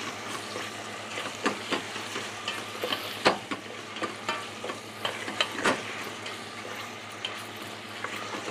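Chicken sautéing in a casserole over low heat gives a soft continuous sizzle, broken by repeated scraping and clacking stirs of a utensil against the pot.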